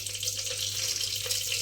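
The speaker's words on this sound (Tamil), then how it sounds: "கடுகு பொரியுது." Mustard seeds spluttering and popping in hot oil in a clay pot, a steady bright crackling sizzle that continues without a break, close and fairly loud, with no talking.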